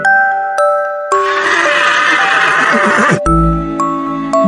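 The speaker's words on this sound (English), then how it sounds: "This is a horse." A horse neighs once in a loud, shaky whinny lasting about two seconds, set against a light backing of chiming music tones, with no talking.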